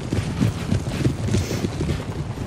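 Massed cavalry hoofbeats of the Imperial Guard horse grenadiers in Napoleon: Total War, a dense, loud, continuous rumble of galloping hooves with no clear single beat.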